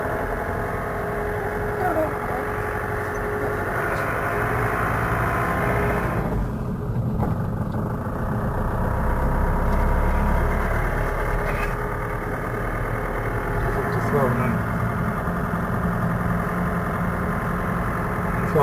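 A car engine runs at a steady idle and pulls away as the drive begins, a continuous loud low rumble with a brief shift in tone midway, heard from inside the cabin while a voice speaks over it.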